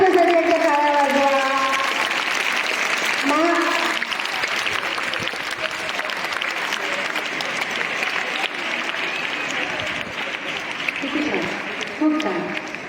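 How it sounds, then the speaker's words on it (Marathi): Sustained applause from an audience honouring a sixth-grade girl who won a school scholarship exam, steady and fairly loud throughout, with a voice speaking over the first few seconds. "जोरदार तिच्यासाठी एकदा टाळ्या वाजवा"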